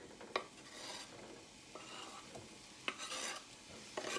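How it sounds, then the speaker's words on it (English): Peppers and mixed vegetables are tipped into a hot pan with meat juices and oil, giving a steady sizzle with a few sharp scrapes and stirring clinks against the pan. "So now what I'm going to do is add in my peppers and my vegetables."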